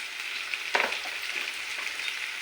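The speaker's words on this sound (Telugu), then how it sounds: "ఇక్కడ ఆనియన్ వేగుతుంటాయి." Onions frying in a pan as a Telugu home-cooked dish is prepared, giving a steady, soft sizzle with a brief louder crackle near the start and no talking.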